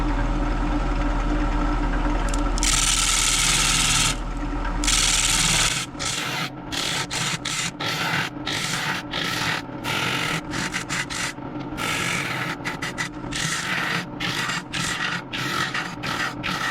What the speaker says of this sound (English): So now we can actually hollow out the whole thing, go deeper, make this thing nice and even.